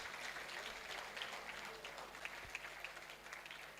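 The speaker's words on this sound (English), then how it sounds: "Let's give them another round of applause." Audience applauding at a university awards ceremony, steady, fairly faint clapping from a crowd with no voices over it.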